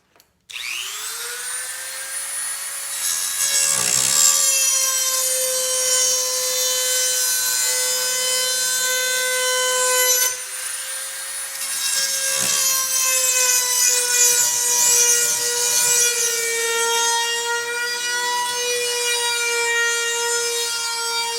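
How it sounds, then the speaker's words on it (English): A Dremel rotary tool makes a straight cut into a kit car body for the headlights, sending out a loud, steady high-pitched whine that runs almost the whole time with one short dip midway. "so now we'll just take a Dremel tool on an edge and just go ahead and make that straight cut into the body"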